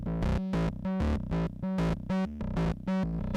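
Sonocurrent M T2D Eurorack distortion module shaping a sequenced synth line, a rhythmic pattern of buzzy, gritty distorted notes repeating steadily, close and alone with no talk.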